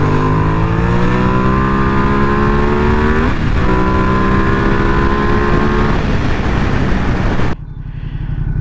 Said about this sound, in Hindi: और देखते हैं कि डुकाटी XTable S का थ्रॉटल रिस्पांस कैसा है.